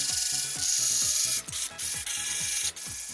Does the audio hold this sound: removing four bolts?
yes